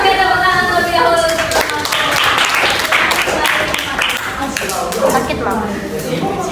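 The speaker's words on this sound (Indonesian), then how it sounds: "Oke, tepuk tangan terlebih dahulu." Audience in a junior high school guidance session clapping, a dense sustained patter of hands that runs steadily under a loud room with voices mixed in throughout.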